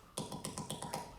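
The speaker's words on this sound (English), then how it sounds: "If you want to make a really high-pitched sound, you make your mouth really big like this." Cheeks tapped lightly with the mouth held wide open, giving a quick run of about six bright, hollow pops at an even rhythm, close and fairly quiet, with no talking.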